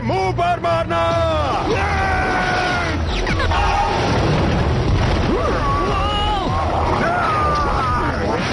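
A loud booming explosion in a Slugterra cartoon blows up the rover, a heavy rumbling blast with crackling debris that fills most of the clip. Voices speak briefly at the start.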